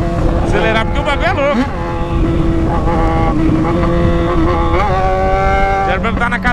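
A Yamaha XJ6 motorcycle revs loudly and steadily, its engine pitch climbing and falling through gear changes under constant wind rush, close to the rider.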